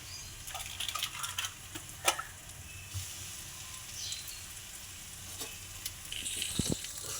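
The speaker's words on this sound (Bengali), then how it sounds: "দিয়ে মশলাটা ভালো করে ভেজে নেব।" Cumin powder and spices frying in hot oil during a potato, pointed gourd and prawn curry, with a steady close sizzle, occasional stirring scrapes, and no talking.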